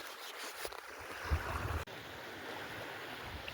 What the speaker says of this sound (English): Listen to the waves all night long.